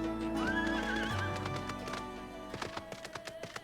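A horse mount in Final Fantasy XIV gives a clear, loud whinny, then its hooves clip-clop in a quick, steady patter that fades slightly toward the end, heard without speech.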